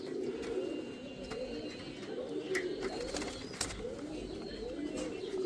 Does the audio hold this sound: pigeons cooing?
yes